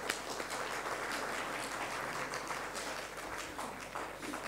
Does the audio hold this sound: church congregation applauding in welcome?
yes